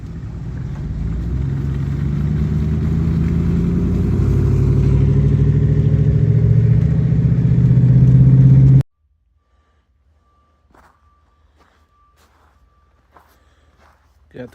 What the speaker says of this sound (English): ATV with a trailer.